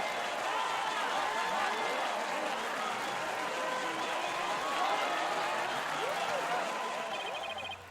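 Courtroom crowd cheering in the Ace Attorney 6: Spirit of Justice video game, a dense, steady wash of applause and crowd noise that continues for several seconds before trailing off.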